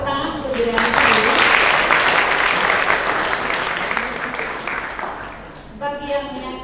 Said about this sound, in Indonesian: tepuk tangan untuk diri Anda sendiri